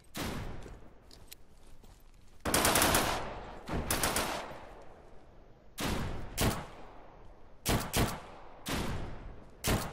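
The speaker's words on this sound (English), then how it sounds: "Who's shooting?" Gunfire in the multiplayer survival shooter Deadside: repeated bursts and single shots crack out at irregular intervals over about ten seconds, some loud and near, others duller, with steady background noise between.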